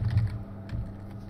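Keyboard typing during a Star Ruler 2 gameplay session, a few quick clustered key taps with a microphone close by and partly in the way, brief and moderately quiet.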